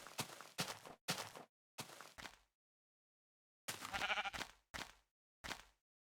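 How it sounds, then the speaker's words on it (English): Sheep in the Minecraft video game give a series of short, faint bleats in separate bursts, with a few seconds of silence in the middle and no talk over them. "Pink sheep."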